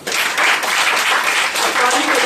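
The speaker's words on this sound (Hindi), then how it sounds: "एक बार जोरदार ताली बजाने" An audience at an indoor venue program claps loudly, a dense, sustained burst of applause close and bright throughout, no voices standing out over the clapping.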